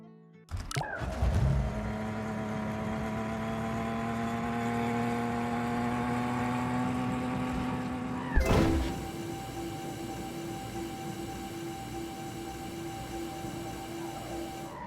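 Cars driving over a bridge in a bridge-building game, a steady engine drone with whining tones, then a sharp thump partway through and a shift to a new sustained pitch, alone without talk.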